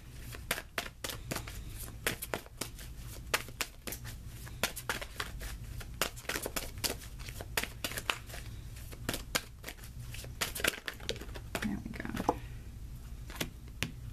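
Tarot cards are shuffled and drawn for a guidance card, a long run of faint, quick papery flicks and taps close by, steady throughout with no speech over them.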